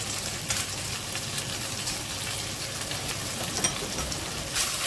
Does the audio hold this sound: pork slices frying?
yes